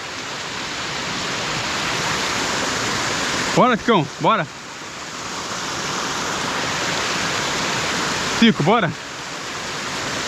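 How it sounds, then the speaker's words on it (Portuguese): A rural waterfall roars as a constant, loud broadband rush of falling water, while a man calls out briefly twice over it. "Morar no sítio e ter uma cachoeira dessa aqui"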